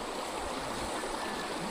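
River water flowing steadily as a continuous broadband rush, close and even throughout with no voices.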